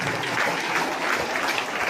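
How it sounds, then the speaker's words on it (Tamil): An audience at a Pongal festival debate (pattimandram) claps to welcome a professor to the stage, a continuous, moderately loud wash of hand claps filling the short stretch without any voices. "அவங்களுக்கு ஒரு பலத்த கைத்தட்டல் கொடுத்து வரவேற்கலாம்"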